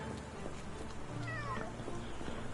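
A cat meows in the video game Sherlock Holmes The Awakened, a single short meow rising out of a steady low ambient drone.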